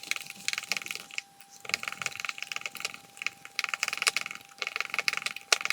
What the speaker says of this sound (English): I'm just going to use a fork and smash it all together